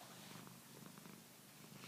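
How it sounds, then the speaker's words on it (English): A pet cat named Moo purrs steadily up close, a soft continuous rumbling with a gentle pulsing rhythm and no other sounds. "That's my cat, Moo. I have two cats."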